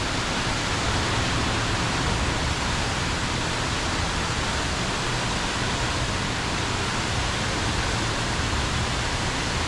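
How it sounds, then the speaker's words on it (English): Indoor water fountains at the Gaylord Opryland Hotel in Nashville: a dense, continuous rushing splash that fills the whole clip, loud and steady without pauses. "We got some fountains over here."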